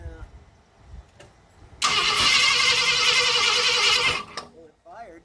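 A 1965 Ford Thunderbird engine cranks and briefly catches, a loud roaring burst of a couple of seconds before cutting out, with quiet talk before and after.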